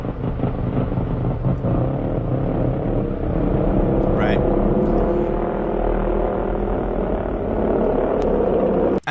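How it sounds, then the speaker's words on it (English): A motorcycle engine sound stretched and slowed down for a slow-motion jump, turned into a deep, sustained rumbling drone that stays loud and steady for about nine seconds. "It's the same sound of the motorcycle,"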